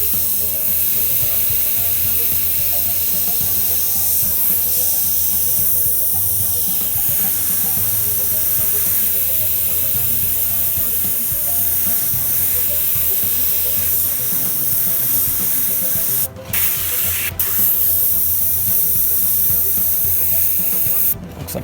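An airbrush sprays paint onto a 1978 Chevy van with a continuous, close hiss that runs almost unbroken, dipping briefly a couple of times near the end before resuming.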